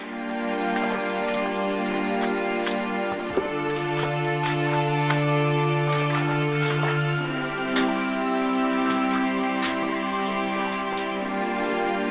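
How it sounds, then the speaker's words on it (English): Steady rain falls outdoors at a quarry-side touring park in Blaenau Ffestiniog, Wales, a constant close patter with scattered louder drops and no talking. "I've come out and it's a bit rainy."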